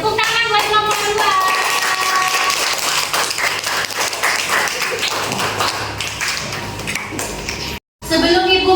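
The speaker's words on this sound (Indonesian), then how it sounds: "Tepuk tangan buat kelompok 2." A class of fifth-grade students claps for a group in a classroom, a dense, steady patter of many hands filling several seconds, with faint voices mixed in, then a brief pause and a renewed burst.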